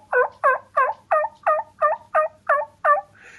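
A human voice imitates a turkey hen's yelp: nine evenly spaced, raspy, two-toned calls in a steady rhythm, close and loud.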